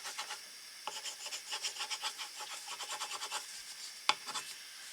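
Something hard is rubbed vigorously by hand in a quick rhythmic series of rasping strokes, quiet and close, with one sharper knock near the end.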